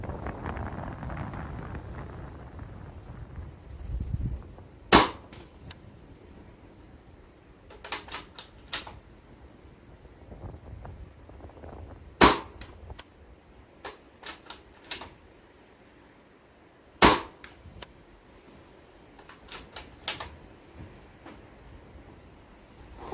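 A sub-12 air rifle of .177 or .22 calibre fires outdoors, giving several sharp isolated cracks spaced seconds apart over a steady rush of gusting wind buffeting the microphone.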